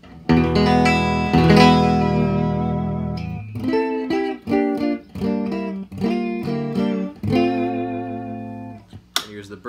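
A Regent electric guitar plays through both pickups at once, a ringing sustained chord followed by a series of shorter picked chords and notes with brief gaps, loud and close with no talking.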